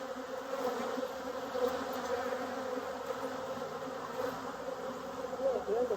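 Honeybees hum around a backyard hive in Tennessee in October, a steady, close droning buzz with slight swells in pitch and loudness throughout.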